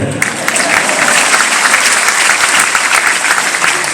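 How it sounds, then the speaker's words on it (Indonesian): Loud, steady applause from a large audience at a comedy show in Banda Aceh fills the whole stretch, dense and continuous without a break. "Tepuk tangan buat saya."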